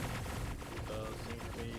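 Weapons fire in a space video game rattles as a continuous, dense barrage of rapid shots, steady and moderately loud with no pauses.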